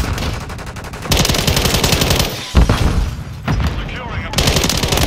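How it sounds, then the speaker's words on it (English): Automatic gunfire in Call of Duty Modern Warfare 3 multiplayer on the Derail map, loud and close, with rapid rattling bursts that break off briefly near the middle before resuming. "Taking effective fire!"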